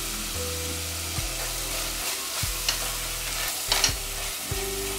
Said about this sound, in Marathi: याला आता ऑइल सेपरेट होईपर्यंत छान कुक करून घ्यायचं